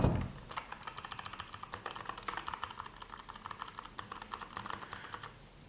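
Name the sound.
typing on Akko Kumara Pro mechanical keyboard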